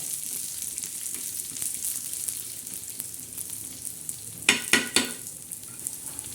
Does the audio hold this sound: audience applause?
no